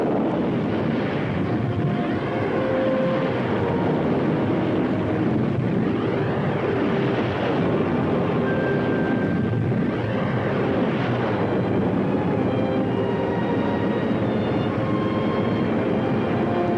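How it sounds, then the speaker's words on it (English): Spacecraft engines starting up and running at full power, a steady loud roar with shifting whining tones and a continuous windy rush throughout. "Engines at maximum speed."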